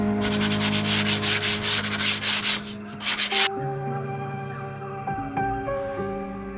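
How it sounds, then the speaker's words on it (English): Hand sanding wooden roundover edges on furniture legs and a stretcher to clear burn marks, brisk rhythmic back-and-forth scratching strokes up close for about three seconds, then stopping and leaving a quiet background. "I cleaned up the roundovers and sanded out any burn marks."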